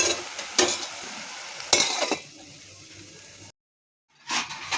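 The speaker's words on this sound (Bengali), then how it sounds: "তিতা করলা ভাজি করছে" Bitter gourd frying in a pan, a steady sizzle broken by sharp spatula scrapes, dropping out briefly to silence before stirring resumes, close by.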